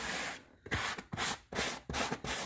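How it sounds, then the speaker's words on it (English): A sanding block scrubs a painted faux leather fabric chair in quick rhythmic back-and-forth strokes, close and fairly quiet, each rasping pass separated by brief pauses, with no one talking. "for camera, I'm going to show you with a sanding block, and I just sanded the entire piece."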